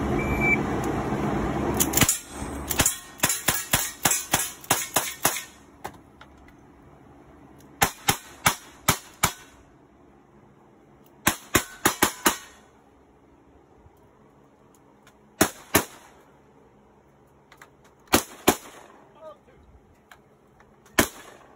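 Rifle and pistol gunshots at a cowboy action shooting stage, sharp loud cracks fired in quick strings and scattered single shots, with pauses between groups.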